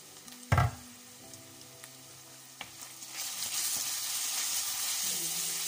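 Onions frying in a pan for a white cabbage and beef dish, a sharp clatter near the start, then a steady sizzle that swells into a broad, continuous hiss.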